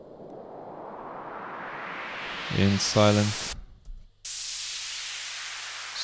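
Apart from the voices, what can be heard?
white noise rise effect created for a music track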